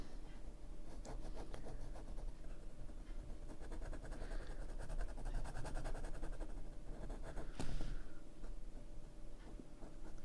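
Faint, steady scratching of a pen moving across paper in short strokes, close by, with a low background hum and no talking.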